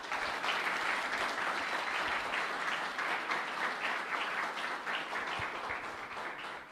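An audience at a sports program launch event in Brazil gives a sustained round of applause, dense and steady throughout, tapering slightly toward the end.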